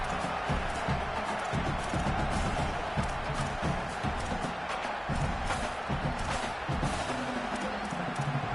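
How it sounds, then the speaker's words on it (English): A home crowd roars without pause in a college football video game, UGA against LSU, a dense wall of cheering and noise with scattered thumps that holds steady and loud throughout. "how nice is it to have the home crowd going absolutely bananas?"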